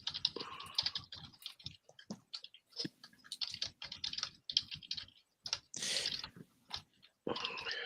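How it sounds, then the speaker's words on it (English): Keyboard typing in quick irregular bursts of close, crisp key clicks, with brief pauses between runs and no talking. "Who's typing?"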